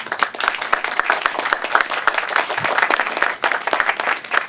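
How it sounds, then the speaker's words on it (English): Audience applause at a library's 125th anniversary celebration, with many hands clapping in a dense, steady burst that stays fairly loud throughout and has a few sharper individual claps standing out. "So if we could give them applause as well"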